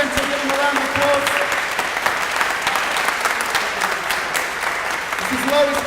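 Sustained crowd applause for a performing cast at a community arts event, dense and steady throughout, with faint talk and a tonal hum beneath the clapping.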